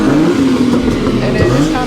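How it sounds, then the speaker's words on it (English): A Lexus GS300 engine revs at a crowded car meet in Atlanta, a loud, close, wavering drone with rising and falling pitch, lasting under two seconds amid crowd noise. "Got GS300 trying to rev"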